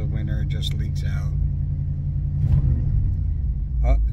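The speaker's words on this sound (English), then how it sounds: "Oh, the Trans Am's warmed up now." A warmed-up Pontiac Trans Am at high idle, a steady low engine rumble running throughout, with someone talking over it in short bursts.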